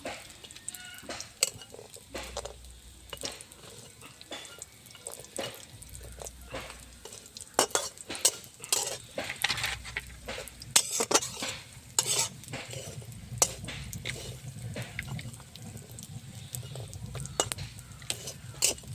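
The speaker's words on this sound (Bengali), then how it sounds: "বড়িগুলো আস্তে আস্তে জাল দিয়ে সুন্দর করে" Lentil dumplings (bori) are fried in a pan, with a steady sizzle and repeated clinks and scrapes of a spoon against the metal throughout. No one speaks.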